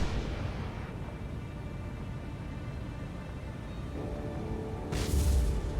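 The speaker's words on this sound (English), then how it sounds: "Ooh, a little explosion there." Low, steady rumble of naval combat in the World War II naval game War on the Sea, ending in a sudden, louder explosion burst on a struck ship near the end.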